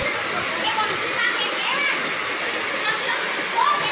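Floodwater rushing down a swollen river in Karangasem during extreme rain, a steady, dense broadband roar that holds at an even, fairly loud level the whole time, with no talk.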